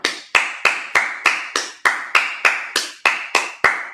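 Sharp, loud hand claps at a Sabbath church service, about eleven in a steady rhythm, each a crisp slap with a short ring, close by and with no talk.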